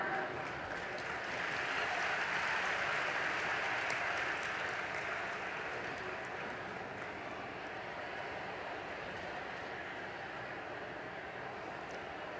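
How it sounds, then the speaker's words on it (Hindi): An audience applauds to welcome Vice President Jagdeep Dhankhar at the Akhil Bhartiya Kalidas Samaroh, a festival in a theatre hall. The clapping is a sustained, even wash from a large crowd that swells early and then holds steady. "हम सभी सम्मिलित हों स्वागत के इस क्रम में अपनी भरपूर तालियों के द्वारा।"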